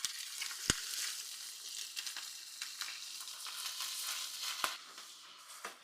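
Savoy cabbage sizzles and fries with softened onion in extra virgin olive oil in a pan, a steady close crackle with a few sharp pops and clatters, no voices.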